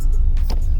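A car sits in slow road traffic, giving a steady, close low engine rumble that continues without change through the brief moment.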